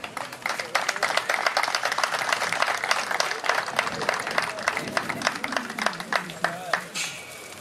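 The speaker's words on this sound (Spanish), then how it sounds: "También ahora le vamos a dar un fuerte aplauso, muchachos, trabajando despacito como se debe con los búfalos." Scattered crowd clapping at a buffalo auction during a provincial buffalo festival, individual claps distinct and uneven, loosening into sparse claps with voices underneath toward the end.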